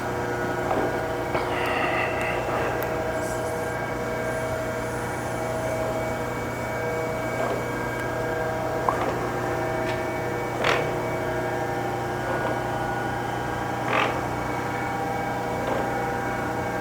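An Acer Supra surface grinder, a high-precision programmable machine, steadily runs its spark-out grinding cycle, giving a continuous mechanical hum and whine with faint periodic ticks and swishes, no talk.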